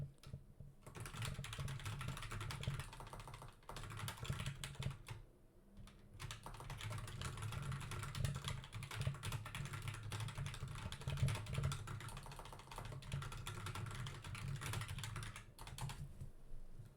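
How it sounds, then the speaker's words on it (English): Steady typing on a computer keyboard in a trading livestream setup, continuous rapid key clatter for most of the stretch with brief pauses, close and moderately loud, no talking. "Let me go ahead and type that in the chat here."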